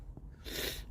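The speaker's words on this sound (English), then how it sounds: "Let me blow my nose." A person blows their nose once inside an RV, a faint short breathy snort followed by a louder, rougher burst of air.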